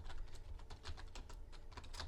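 Steady typing on a computer keyboard, rapid close key clicks in an even rhythm with no voices, heard while entering text for a web coding exercise.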